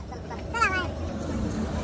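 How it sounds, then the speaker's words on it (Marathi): A tractor engine runs steadily with a low, continuous rumble close by while a person speaks briefly over it. "कसा वाटलं तुला ट्रॅक्टर चालून?"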